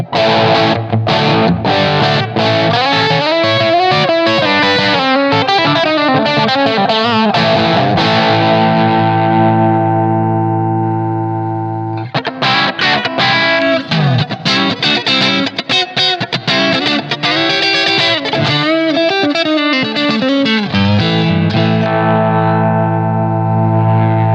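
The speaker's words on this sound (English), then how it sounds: "Quite scooped, that overdrive, even though I've got quite a bit of mid going on in the amp there" Overdriven electric guitar with a scooped-mid tone through a Blackstar St James amp plugin, loud sustained riffs and ringing chords, a brief fade near the middle before another dense strummed passage, no talking.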